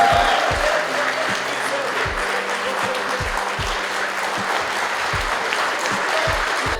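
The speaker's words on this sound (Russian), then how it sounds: "за букет можно еще одну порцию аплодисментов" A crowd at a fan meeting for fighter Valentina Shevchenko breaks into steady, dense applause that carries on evenly for several seconds, close and full.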